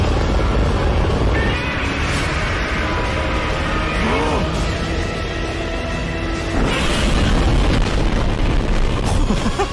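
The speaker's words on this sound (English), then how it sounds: "Oh no, it's about to explode." A big movie explosion from Godzilla vs Kong rumbles continuously, a dense booming roar with shifting debris and effects layered over it, loud and sustained throughout.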